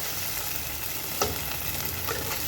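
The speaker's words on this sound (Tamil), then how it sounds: "நம்ம சேர்த்த வெங்காயமும் தக்காளியும் நல்லா வதங்கிட்டுருக்கு" Onions and tomatoes sauté in a pan, giving a steady close sizzle with a couple of brief stirring scrapes, no voices.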